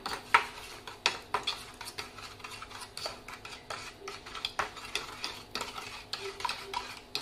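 A spoon scrapes and clinks steadily around a bowl while stirring a dipping sauce with lime juice for roast pork, a rapid series of close, sharp, irregular taps and rubs with no talking.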